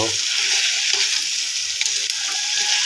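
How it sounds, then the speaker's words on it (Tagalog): Onions are stirred into cooked meat for Bicol Express, with a loud, bright, continuous sizzle of frying and occasional soft scrapes from the stirring. "Ilagay na natin ang sibuyas kasi luto na yung karne. Kunting halo."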